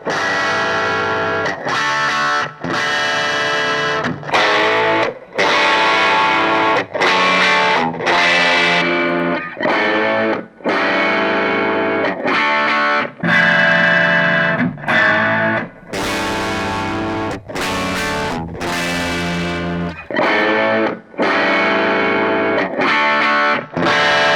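Distorted electric guitar chords ring out loud and gritty in repeated bursts separated by short pauses, with no voices.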